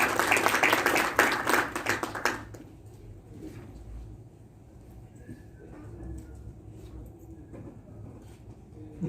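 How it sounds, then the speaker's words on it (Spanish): Applause from an audience at a talk on collaborative construction contracts, brisk clapping for about two seconds before it dies away into quiet room noise. "Muchas gracias por sus aplausos."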